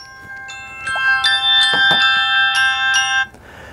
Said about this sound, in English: it's going to start chiming your phone